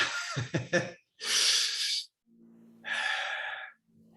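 A person takes slow, deep breaths: two long, breathy inhales or exhales, close and fairly quiet, separated by short pauses, after a few brief soft sounds at the start and a faint low hum in the gaps.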